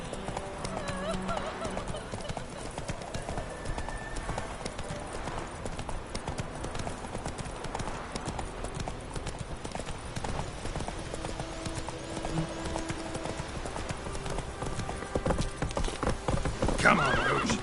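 Steady clip-clop of a horse's hooves from The Witcher video game, the horse Roach walking at an even pace, with an occasional whinny, game ambience and voices underneath.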